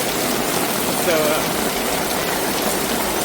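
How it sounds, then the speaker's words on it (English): Heavy rain pours down steadily in Funchal, Madeira, with a dense, continuous hiss filling the clip and a person's voice speaking briefly over it. "Oh my gosh, it is pouring."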